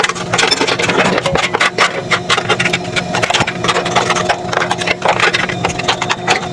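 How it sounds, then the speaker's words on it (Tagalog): Newly fitted compressor motor running steadily with a constant mid-pitched hum, overlaid by busy clattering and tapping from work nearby, loud and close without talk. "Gumagana siya saka yung motor okay naman."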